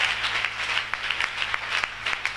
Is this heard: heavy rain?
no